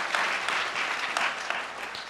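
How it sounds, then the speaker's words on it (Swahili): Church congregation at a branch launch clapping for their chairman, a dense wash of steady applause from a crowd filling the room, moderately loud and unbroken. "Na ninyi mumpigie makofi vizuri"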